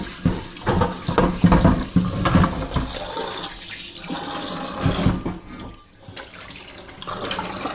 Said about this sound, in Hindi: तो इसको हम धो लेते हैं अच्छे से इसको वॉश कर लेंगे।